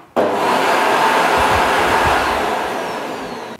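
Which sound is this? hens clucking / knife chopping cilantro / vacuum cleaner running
vacuum cleaner running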